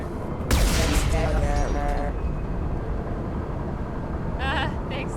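Mechs blow apart in Mass Effect 2 Legendary Edition: a sudden loud blast at the start gives way to a sustained rumbling roar of game noise, with a brief bright electronic chirp near the end.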